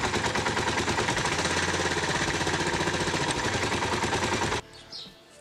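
Suzuki DR 600 four-stroke single firing up after a kick-start, a loud, rapid, hammering exhaust beat held close for several seconds before cutting off abruptly, then a brief quieter tail.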